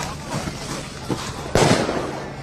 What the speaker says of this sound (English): They're shooting fireworks at people?